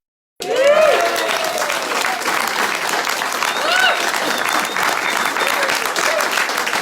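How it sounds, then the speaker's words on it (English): Sustained clapping from an audience after a talk on dog sledding in the Arctic starts abruptly following a moment of silence, staying steady and fairly loud, with a few faint cheers and voices mixed in. "Big round of applause for Paris."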